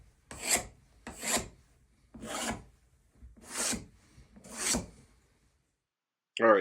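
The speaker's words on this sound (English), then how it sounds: "what I'm doing here is running pieces through the drum sander" End-grain wood glue-up pieces are fed through a drum sander: five rasping, gritty bursts, one per pass, at an even pace, close by, followed by a brief louder knock.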